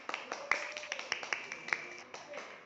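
Students clap in a classroom, a quiet run of uneven, sharp handclaps spaced across a few seconds, with faint voices in the background.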